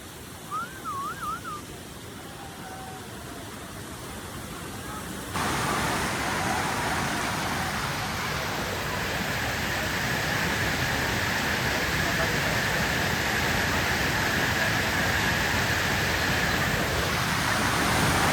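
Bangar Kusuma waterfall near Honnavar roars as a dense, steady rush of falling water that grows louder and fills the scene after a brief quieter opening with a few faint sounds.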